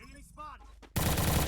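Gunfire in the Free Fire mobile battle game, a loud sustained burst of automatic weapon fire that starts abruptly and drowns everything, after a quieter stretch of voices talking.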